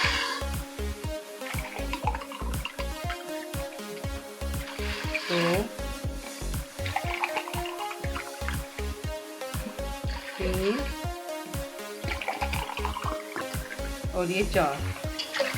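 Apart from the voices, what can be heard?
water being poured into a pot for tea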